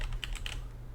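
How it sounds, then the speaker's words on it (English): A few quick keystrokes tap on a computer keyboard, close and moderately loud over a low steady hum. "I'll just type in cluster, enter"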